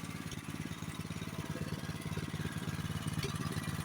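A Honda HS828 snowblower engine idles steadily nearby after an idle adjustment, a continuous rapid low putter with no talk.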